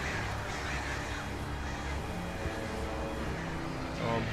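Several crows cawing in the horror game Alan Wake, harsh calls repeating over a constant dense rumbling background at moderate distance, with no clear talk.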